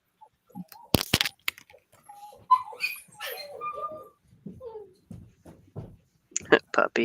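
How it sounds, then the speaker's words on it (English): A new puppy whimpers and gives a few sharp yips and barks in short bursts, fairly close, mixed with nearby talk. "We have a new puppy, and he's going ape."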